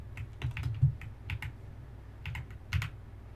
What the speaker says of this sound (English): And let me try with the keyboard